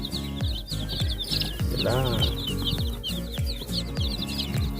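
Baby chicks on their third day peep in constant high, rapid chirps, with low clucking from chickens pulsing underneath and a brief spoken word partway through.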